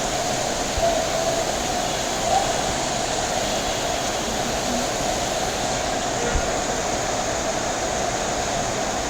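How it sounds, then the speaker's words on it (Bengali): Heavy rain pours over Mirpur in Dhaka as a dense, unbroken roar that holds steady and loud throughout, with no pauses or distinct drops standing out. "প্রচুর বৃষ্টি হচ্ছে।"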